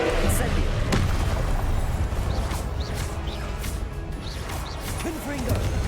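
The Incendio fire spell in Hogwarts Legacy erupts in a burst of fiery whooshes and booms amid game combat noise, with a player talking over it.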